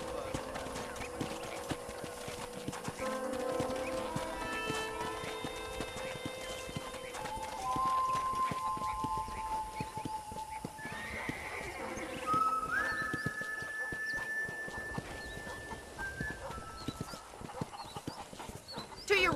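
Hooves of a horse ridden around a ranch in Red Dead Redemption clip-clop in a steady trotting rhythm, with game music tones and a voice speaking over the hoofbeats.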